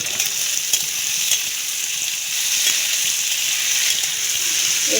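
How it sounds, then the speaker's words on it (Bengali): Paneer with salt for chilli paneer sizzling in a covered pan: a loud, steady frying hiss with faint crackles and pops throughout, close by and unbroken, with no talk. "এবার আমি একটু ঢাকা দিয়ে ভাজবো"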